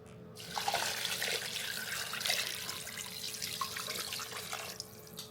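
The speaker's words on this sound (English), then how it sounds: "And you're gonna cover it with water." Water poured from a tap into a pot of chicken and butter, a steady splashing stream that runs continuously and fairly softly, then trails off near the end.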